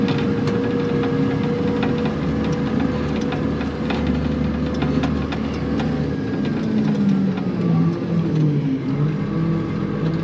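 A truck with its bed raised drives slowly over very bumpy ground while spreading its load, its engine rumbling steadily and continuously up close, with mechanical rattles throughout.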